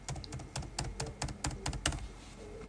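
Nines typed over and over on a computer keyboard, about a dozen crisp, evenly spaced keystrokes in a quick, steady rhythm, close and clear with no talking.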